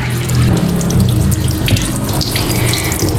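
Water runs steadily from a flexible Paloma kitchen faucet into a sink, a close, continuous splashing rush with no voices.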